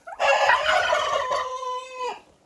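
A Marans hen in a henhouse gives one drawn-out, loud call that rises and then holds a steady tone before fading, alone with no talk.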